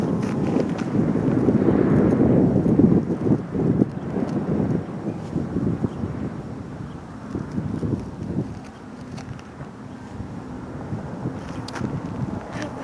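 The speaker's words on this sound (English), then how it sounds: "it's all windy and stuff here" Gusty wind buffeting the microphone with a low rumbling roar, strongest early on and easing slightly, with scattered faint knocks beneath it.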